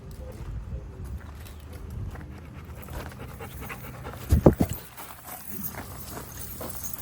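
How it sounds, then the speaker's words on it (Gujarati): A dog at the Zarwani eco tourism camp in Gujarat pants softly and moves around nearby. A short burst of louder scuffling and footfalls comes midway, and quiet panting continues after it. "એનો એ જ છે પેલું ડોગ"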